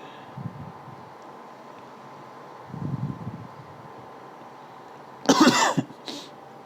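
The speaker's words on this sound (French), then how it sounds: "Excusez-moi, je tousse." Two soft, low throat sounds, then one loud, sharp cough near the microphone and a fainter follow-up, over a steady hiss.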